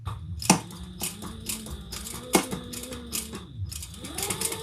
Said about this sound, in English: Very visible top stitching, so just go slow